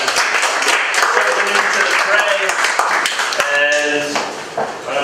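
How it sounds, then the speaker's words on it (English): Audience applause at a weekly startup meetup, steady clapping lasting several seconds with voices and some cheering mixed in underneath. "Let's give her a round of applause."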